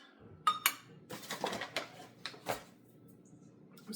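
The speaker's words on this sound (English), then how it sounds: "I'm just going to give this a stir." Ingredients being stirred in a bowl for classic bread dough give a few sharp clinks followed by irregular scraping knocks, close and fairly quiet.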